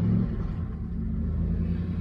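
A Triumph Stag engine idles slowly at about 400 RPM, producing a steady, close low rumble that holds throughout with no revving.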